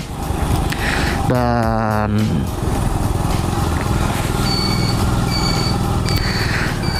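Honda Monkey C70 Dax motorcycle engine running steadily throughout with a continuous close buzzing drone, while a horn-like tonal burst briefly cuts in near the start.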